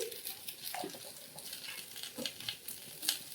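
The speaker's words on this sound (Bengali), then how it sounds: "এটা টিফিনের একটু আলু ভেজে নিচ্ছি লঙ্কা জিরে ফোড়ন দিয়েছি" Potatoes fry in a pan of hot oil with chili and cumin, giving a soft, steady sizzle broken by light scraping stirs, close by and fairly quiet, with no talking.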